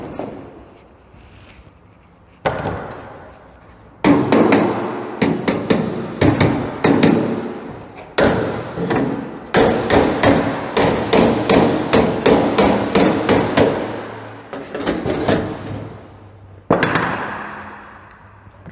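A hammer strikes a metal car body panel as it is knocked into shape to fit, loud sharp clangs coming in bursts, some rapid and some spaced, with short pauses between them.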